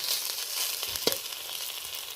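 Pumpkin flower pakoras crackle steadily in hot oil, a dense close sizzle with one sharper clink or scrape midway as a fritter is turned; no one talks.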